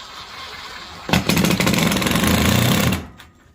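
A power driver sets a stainless steel number 12 three-quarter-inch self-tapping screw into a food truck floor, a loud close buzzing whir lasting about two seconds before winding down, with no talk.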